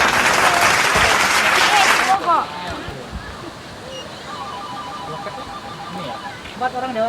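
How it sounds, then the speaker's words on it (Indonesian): A crowd of visitors claps at a river tourist spot in Sentul, a dense burst of applause lasting about two seconds before giving way to rushing water and people talking. "Kasih aplaus dulu dong."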